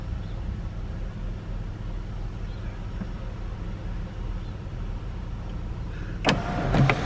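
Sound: car sunroof opening with electric motor

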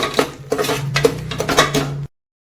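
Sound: mixing spices in a pot with a spoon

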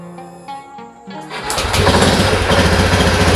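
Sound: fuel-injected motorcycle engine starting and idling unevenly

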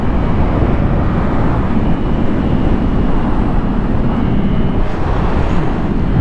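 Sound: Yamaha MT-07 motorcycle engine accelerating

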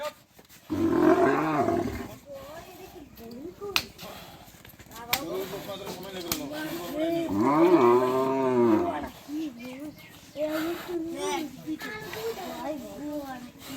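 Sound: cattle being loaded onto a truck

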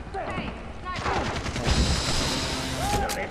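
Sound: gunfire from a sniper rifle in the video game Far Cry 3

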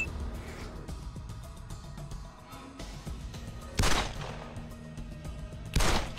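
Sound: gunshots in the video game Wasteland 2

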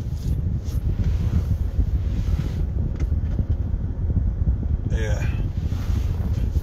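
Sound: wind blowing into microphone

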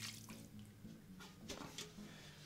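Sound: water poured over turkey bones for stock

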